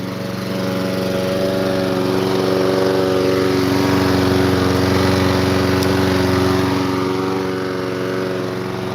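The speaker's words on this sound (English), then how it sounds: "Sounds like a lawnmower." A lawn mower engine under repair runs steadily and loudly on the fuel left in its carburetor, an even buzzing drone with a low throb that never changes pace, with no voices.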